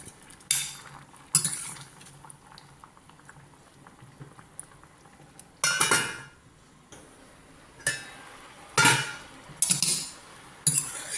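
A spoon stirs sweet mango curry (mango pachadi made without coconut) in a cooking pot, giving several separate bursts of scraping and clinking over a low bubbling simmer. No one speaks.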